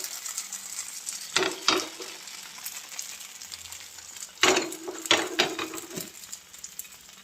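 Pitha batter poured into a hot frying pan and swirled around, a faint sizzle punctuated by two clusters of louder scraping and pan-handling sounds, close by, with no talking.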